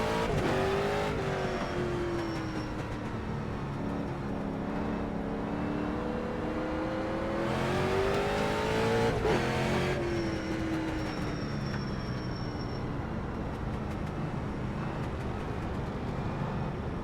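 Street stock race car engines drone through a rolling start at about 30 mph in iRacing, a steady close engine hum with gently rising and falling pitch and a brief rev swell midway, without talk.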